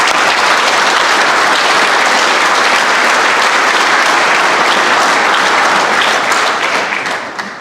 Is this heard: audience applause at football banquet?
yes